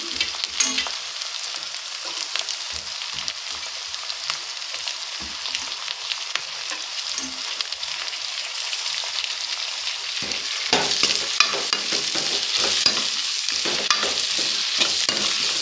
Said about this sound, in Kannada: ಈಗ ನಾನು ಟೊಮೊಟೊ ಹಾಕ್ಕೊತಾ ಇದ್ದೀನಿ.